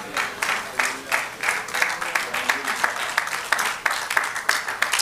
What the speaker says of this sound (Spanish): Y si usted va a dar ese aplauso, déselo al Señor con todas sus fuerzas